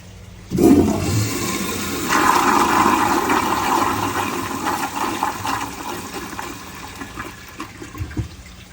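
A 1978 American Standard Glenco toilet flushes during a dirt test, set up to use a gallon less water than intended: a loud sudden rush and swirl, then draining and gurgling as the tank refills.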